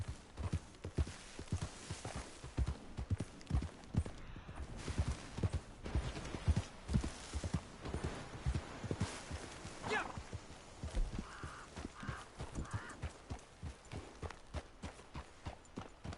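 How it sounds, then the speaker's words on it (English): Hooves clip-clop steadily in a video game, a rapid run of close, crisp hoofbeats that continues throughout. A horse whinnies briefly partway through, and the game sounds play without speech. "Don't fight me, horse."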